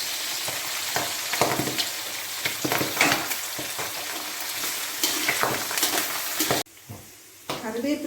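Curry leaves and kanthari chillies frying hard in a pan for ginger-mango pickle, a loud crackling sizzle with stirring clatter that briefly cuts out near the end, then resumes.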